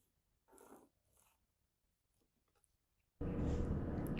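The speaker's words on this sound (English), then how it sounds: "I'll draw a pocket opening." Chalk or marker strokes drawing a pocket opening line on jacket fabric for a classic double-breasted jacket, two short scratchy strokes close up, followed by a sudden loud broadband noise near the end.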